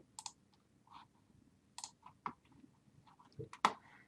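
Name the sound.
computer mouse click to save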